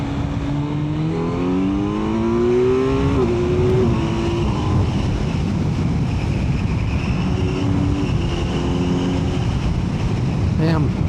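A 2025 Kawasaki Z900 motorcycle engine revs hard under partial throttle, rising harmonic sweeps climbing through several gear-like pulls, loud and close amid steady wind rush, with a brief voice near the start.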